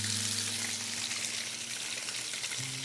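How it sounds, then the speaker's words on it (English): Fish sears in smoking hot olive oil in a pan, a continuous loud, even sizzle with no voices. "Good sizzle."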